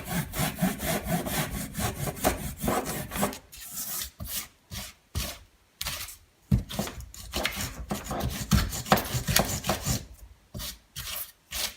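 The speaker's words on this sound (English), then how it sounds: "I did some sawing also, and kind of smoothing this off a bit more" Hand sawing and rasping on a miniature model pond build, a rough rhythmic scraping that runs steadily, then breaks into short separate strokes with brief pauses, close and fairly loud with no talking.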